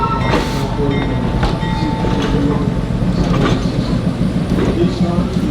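A 1955 St. Louis Car Company New York City subway car runs steadily, with a continuous rumble of rolling wheels, rhythmic clicking over rail joints and brief squeals, close and loud throughout.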